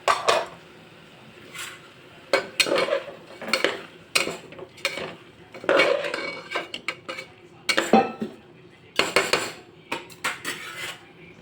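Repeated metallic scraping and clinking of a spoon stirring basmati rice inside a pressure cooker, in irregular bursts with short pauses, close up and no talking.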